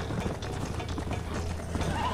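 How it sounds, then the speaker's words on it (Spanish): Galloping horse hooves in the Red Dead Redemption video game, a steady rapid clatter of hoofbeats over a continuous low rumble, with brief faint mechanical clicks mixed in. "me están pisando los talones los mendigos caballos y dejo de darle nalgadas al caballo"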